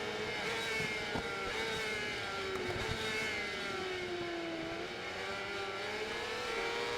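Motorcycle engine in the RIDE 4 racing game, revving steadily under gentle throttle out of corners, with a continuous whining drone that rises and falls slightly in pitch, heard alone.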